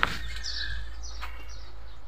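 Racing pigeons call outdoors in Lapaz, Tarlac, with a few thin, high chirps carrying over a low steady background rumble, fairly faint and with no talking.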